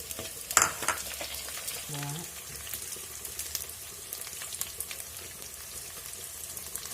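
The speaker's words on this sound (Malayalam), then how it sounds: "കുറച്ച് വെച്ചിട്ട് ഈ പച്ചമുളക് ഞാൻ നടുക്കായിട്ട് കീറിയാണ് പച്ചമുളക് ഇട്ടു." Slit green chillies sizzle and crackle steadily in hot oil in a pan for a Pathanamthitta-style fish curry. A sharp spatter comes early, and a few stirring scrapes follow under the continuous frying hiss.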